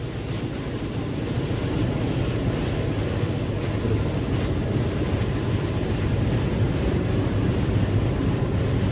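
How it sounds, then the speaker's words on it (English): MAN B&W 6S60ME-C two-stroke ship main engine starting astern on compressed air, a loud, dense, continuous roar and rumble with heavy low-end noise, steady and unbroken throughout in a noisy engine room. "Try out the engine in astern direction. First, the engine will run on air, then it will go on fuel run."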